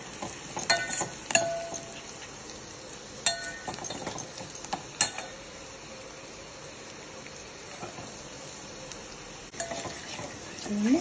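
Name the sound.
tempering spices frying in oil and ghee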